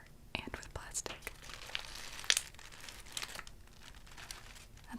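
Paper and plastic packaging crinkle and rustle softly as an item is unwrapped from a box inside another box, with quiet irregular crackles and taps under faint whispered, soft-spoken talk.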